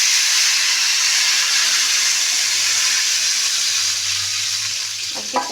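Water poured into a hot pan of already-fried fish with black cumin, for a fish curry, sets off a loud, steady sizzle and hiss that eases slightly toward the end, with a brief clink.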